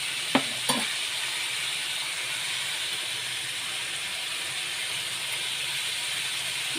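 Shredded cabbage fries in a pan, a steady dense sizzle and hiss throughout, with a couple of brief clinks of a spatula near the start, close and alone without talk.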